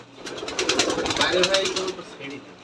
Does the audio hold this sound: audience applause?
no